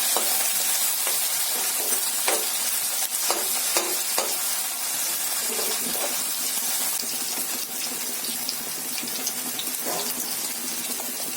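Onions and raw green chillies fry in a little oil in a pan, a steady close sizzle running throughout with scattered clicks of stirring and no talk.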